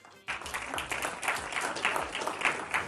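Audience applause at a public speech, a steady burst of clapping that starts abruptly and carries on at even loudness.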